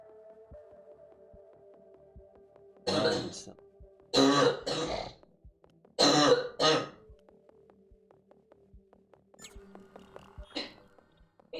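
Several short coughing bursts in a game, grouped in quick clusters with pauses, close and fairly loud over a low steady hum with faint clicks.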